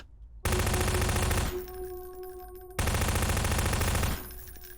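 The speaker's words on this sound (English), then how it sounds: "I go to shoot the SMG" SMG gunfire in Garry's Mod VR fires in two sustained automatic bursts, loud and close, with a brief quieter gap between them and faint ringing after each.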